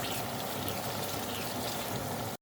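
Cooking oil streams steadily into a pan as more is added, a soft continuous pour lasting a couple of seconds before cutting off abruptly.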